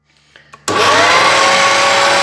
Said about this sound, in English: So now I'm gonna mix it.